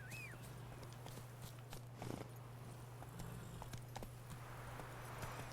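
Roach the horse's hooves clip-clop in The Witcher 3, a steady walking rhythm of soft knocks, faint and mid-distance under a constant low game hum.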